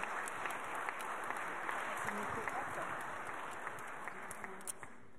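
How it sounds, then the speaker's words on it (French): Sustained applause from a crowd at a reception for a WorldSkills finalist team, steady clapping that carries on throughout, with a voice faintly audible underneath. "Allez, on les applaudit encore une fois."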